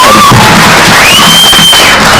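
A large outdoor crowd at a Nakuru political rally applauds and cheers loudly for the Nakuru governor, a dense, continuous roar of clapping with whistles over it.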